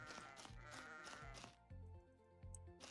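Sheep bleat in the indie PC game Lila's Sky Ark, heard over loud, layered game music with a rhythmic beat, the bleats standing out clearly near the front.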